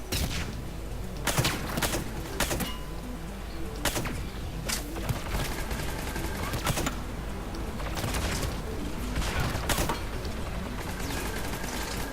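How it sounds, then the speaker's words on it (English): Mounted turret fire in the Mass Effect 3 video game: bursts of sharp gunshots repeat at irregular intervals over a constant loud background rumble of combat, with no speech. "Mounted turret."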